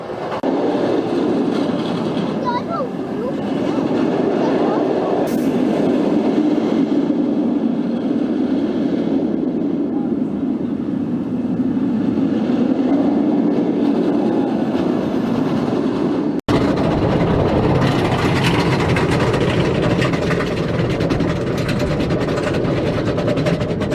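A roller coaster train on Iron Gwazi at Busch Gardens Tampa rumbles steadily along the track with a loud, continuous roar and rattling, then the sound shifts abruptly to a brighter, harsher rush near the end.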